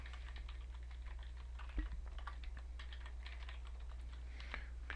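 Steady, quiet typing on a computer keyboard, a dense run of light key clicks at an even pace over a constant low hum, with no talking.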